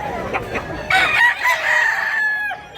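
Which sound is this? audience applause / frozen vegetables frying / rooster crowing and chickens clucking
rooster crowing and chickens clucking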